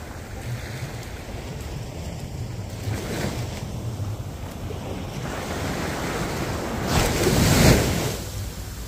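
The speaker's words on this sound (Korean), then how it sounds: "한번 파도를 감상해 볼게요." Ocean waves roll and break on a beach in winter amid wind noise, a steady wash of surf building to a louder, closer crash near the end.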